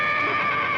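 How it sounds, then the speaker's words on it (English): A horse whinnies in a sustained, strident call, loud and close, with no talking. "I thought I heard a horse"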